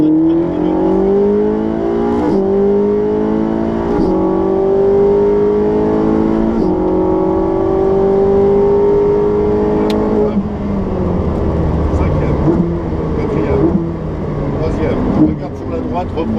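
A Ferrari 458 Speciale engine pulls hard, its tone climbing steadily, dropping briefly around a gear change, then building again, loud and close, with a voice talking over it.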